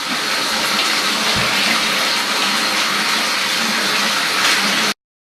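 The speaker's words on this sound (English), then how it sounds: "So I'm just filling my bathtub kind of up with water" Steady rushing of water pouring into a bathtub, loud and continuous for several seconds before cutting off abruptly.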